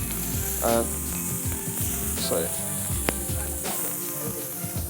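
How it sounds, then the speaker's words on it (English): Burger patties sear in an extremely hot pan, giving a steady hissing sizzle under a continuous background hum, with a few brief scraping or clinking touches and one sharp click. "I'm going to flip those a tiny bit early because this is an extraordinarily hot pan."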